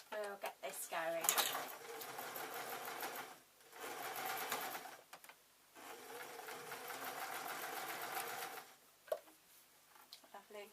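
A sewing machine stitching a seam on a fabric owl, running in several steady whirring bursts separated by short pauses, with a few clicks and a brief reverse.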